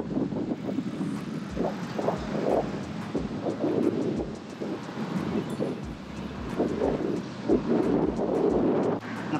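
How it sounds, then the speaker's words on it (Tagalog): Strong wind in Melaka buffets the microphone in heavy gusts and rumbles, with faint traffic noise beneath, loud and continuous across the whole stretch. "Napansin ko lang dito sa Melaka, lakas ng hangin."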